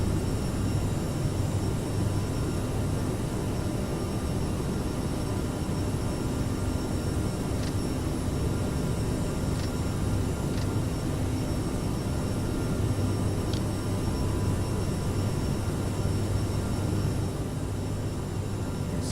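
Aerosoft CRJ700 regional jet engines climbing at climb power in Microsoft Flight Simulator: a loud, unbroken jet roar and drone held throughout, with a few faint clicks and no voices.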